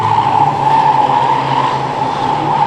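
Ministox race cars race at Cowdenbeath Racewall with a steady, loud engine roar that holds throughout, and no gaps or passes stand out.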